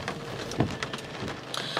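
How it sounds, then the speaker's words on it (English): Heavy rain pours down in a steady broadband hiss with scattered sharper drop impacts, close and continuous through a short stretch. "it's raining so hard right now"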